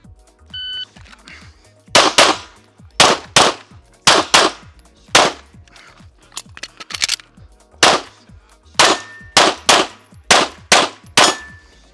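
Gunshots at a practice session ring off steel targets in quick sets of sharp cracks, each followed by a metallic clang. Roughly a dozen loud reports come in an uneven rhythm, with short pauses between strings.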